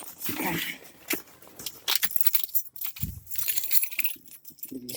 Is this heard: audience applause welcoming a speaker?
no